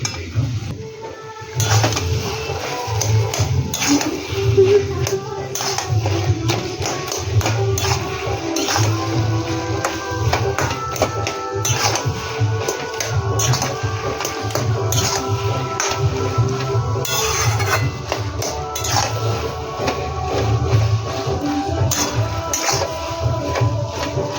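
A cook stirs food in a pan after adding sugar while making a kochu dish with hilsa fish head, producing continuous scraping and clinking of utensil on metal, fairly loud and close, over a steady low hum, with no talking.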